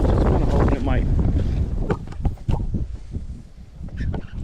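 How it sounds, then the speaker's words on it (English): Strong wind by the water rumbles loudly into the microphone, with heavy buffeting at first that eases slightly, while a person talks and makes sounds over it. "Well, it's too windy over here, really."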